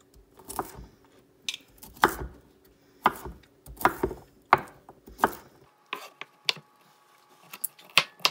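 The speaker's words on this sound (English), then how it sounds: "I'm just going to roughly chop it." A knife roughly chops cauliflower on a board in a home kitchen, a series of irregular crisp thuds and crunches with short pauses between strokes, close and fairly loud.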